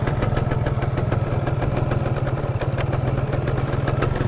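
A 1999 Yamaha F1ZR motorcycle idles close by with a steady, even putter from its standard exhaust, loud and unchanging throughout.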